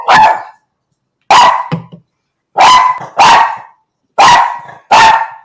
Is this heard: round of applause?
no